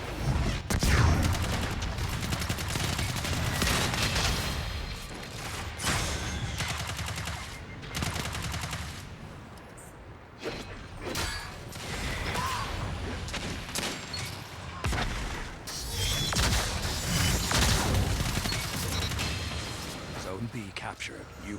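Sustained bursts of automatic gunfire and scattered shots from a multiplayer shooting video game match, dense and loud throughout with brief lulls, under game voices and sound effects.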